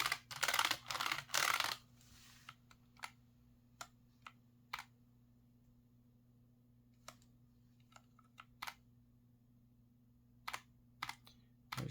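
Redragon K618 mechanical keyboard, keys pressed in a loud flurry at first, then single sparse clicks spaced out over a quiet background hum.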